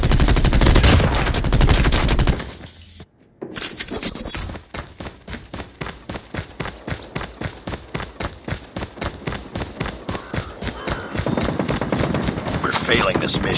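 Sentry gun gunfire in a video game, a long run of rapid, evenly spaced automatic shots that follows a loud opening burst and a brief silence, with voices heard faintly underneath.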